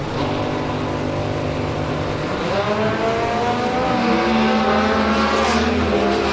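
Competition Eliminator drag cars, one of them an altered, roar down the strip at a division race, loud and continuous, their engine pitch sweeping upward as they accelerate. There is no talk over the engines.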